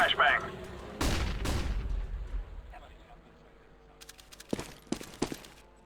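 A flashbang grenade goes off in a CS:GO professional match, giving a sharp burst around one second and a second blast soon after, followed by scattered gunfire and footsteps, with a caster speaking over the action.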